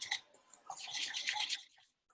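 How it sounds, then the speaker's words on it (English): Dry baking ingredients, including baking powder, are stirred in a bowl with a tiny whisk, heard as a quick, faint scratchy brushing lasting about two seconds. "And then I'm gonna whisk that all together."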